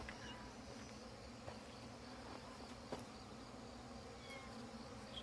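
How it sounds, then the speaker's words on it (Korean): A black hornet's low, steady buzz drones through the whole stretch around a beehive hornet trap, faint and continuous, with a few soft ticks and knocks in the background. "흑말벌 또 왔다."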